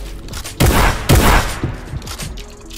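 Two heavy, close gunshot blasts ring out a half second apart in the battle royale game Fortnite during season 9, followed by fainter trailing pops and rumbling decay, with no talking.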